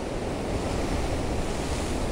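Ocean waves break on rocks along a fishing shore in a continuous loud, roaring wash, mixed with wind buffeting the microphone and no voices.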